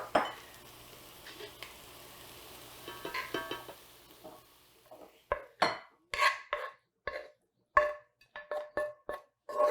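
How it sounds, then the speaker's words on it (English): Warm Three Sisters salad being scraped and spooned from a pan into a bowl: a soft sizzle first, then a run of sharp utensil clinks and scrapes against cookware, close and clear. "Now that our salad is nice and warm, we can go ahead and transfer it to a bowl."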